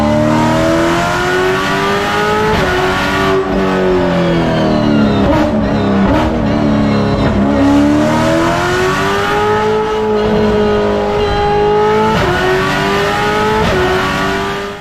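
Exhaust note of a 2024 Ford Mustang GT S650 V8, a steady loud engine roar that rises and falls with revving throughout, heard alone with no talk.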